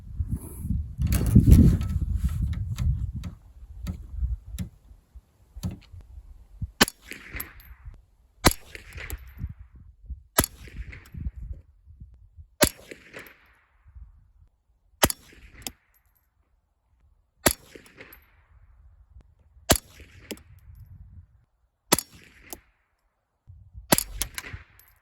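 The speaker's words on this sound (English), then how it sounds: "we're gonna do a 10-round group shooting federal 40 grain" Savage A22 .22LR rifle firing Federal 40 grain Auto Match rounds for a ten-round group: sharp, fairly near cracks fired one at a time at a slow, steady pace, each followed by brief ringing, with quiet gaps between shots.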